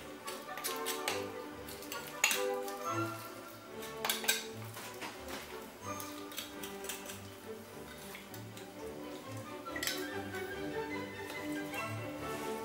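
A knife cutting and scraping around a turkey thigh bone while deboning: steady clicks, scrapes and clattering against a board, close and continuous at moderate level.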